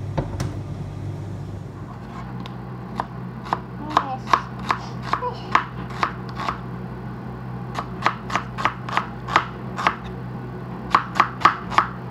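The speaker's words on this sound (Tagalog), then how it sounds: "Mahiwa tayo ng sibuyas guys" Knife chopping onions on a board, about twenty crisp, evenly spaced cuts that speed up in the second half, close and clear over a steady low background hum, with no talking.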